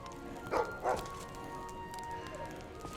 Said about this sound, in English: Are you alright, doggy?